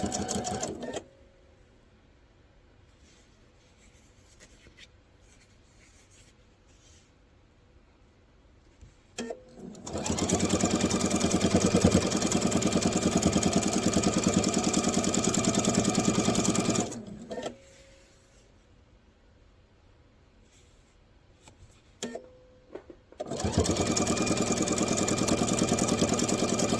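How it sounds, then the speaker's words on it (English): Sewing machine stitching a quilted star heart table runner, running in two long steady bursts separated by quiet pauses, loud and close. "And I'm going to sew all the way to the next corner."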